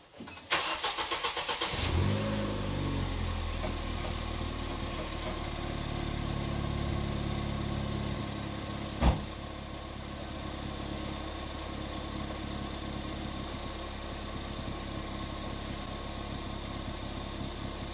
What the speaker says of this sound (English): we're going to turn it on now and see how she sounds